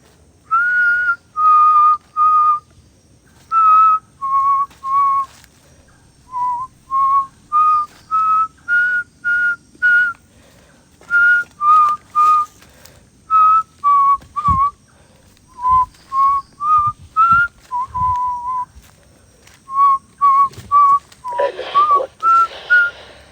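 A person whistles a slow tune alone, clear and close, with short repeated notes separated by brief pauses and a rustle near the end.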